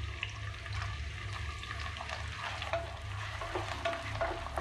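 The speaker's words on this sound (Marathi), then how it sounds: "मी इथे मोठे 4 कांदे घेतले, ते मी फ्राय करून घेते।" Four large onions fry in oil for a biryani, giving a soft, steady sizzle with some faint stirring clatter and a low background hum throughout.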